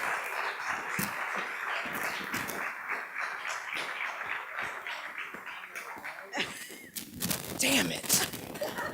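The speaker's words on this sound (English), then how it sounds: "Let's give him a round of applause." Comedy club audience applauding a stand-up comedian, a steady broadband wash of clapping with scattered sharp claps and some cheering, swelling louder near the end.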